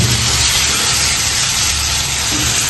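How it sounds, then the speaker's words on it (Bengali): Salted, sliced onions frying in oil in a pan until brown, giving a steady, dense sizzle and hiss that holds evenly throughout. "এখন বেরেস্তাগুলো ব্রাউন হওয়া পর্যন্ত আমি ভেজে নেব।"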